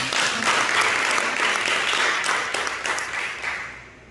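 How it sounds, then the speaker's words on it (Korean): Church congregation applauding together, a dense, steady wash of clapping that holds strong for several seconds before thinning out toward the end. "박수 한번 해요. 박수."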